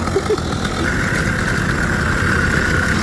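The engine of a wooden pallet go-kart backing up in reverse gear runs with a loud, steady, close-up droning hum that holds evenly for the whole stretch.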